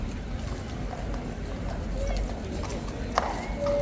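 A horse at the Horse Guards parade clip-clops as it is led back around after being spooked, with soft, steady hoofbeats under crowd noise and someone talking throughout.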